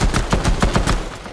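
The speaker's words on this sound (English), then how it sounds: "I'm just gonna shoot him every time" Rapid gunfire from a ranked video game match cracks out in a quick burst of about seven shots, closely spaced and loud, with no talking over it.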